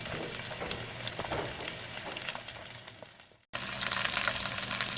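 Beef short ribs browning in a Dutch oven, a steady close hiss of sizzling fat that briefly drops out, then returns louder and crackling.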